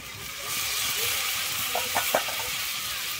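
Boiled figs (dumur) sizzle as they go into a spiced oil-and-masala mix in a pan. A steady frying hiss rises, and a few clinks and stirring scrapes come through near the end.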